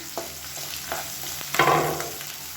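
Finely chopped onions and garlic fry in hot oil for a South Indian kulambu, with a soft sizzle broken by spoon scrapes and stirring clatter in the pan and a louder burst of frying partway through.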